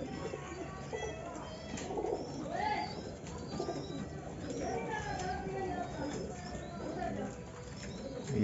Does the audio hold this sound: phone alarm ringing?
no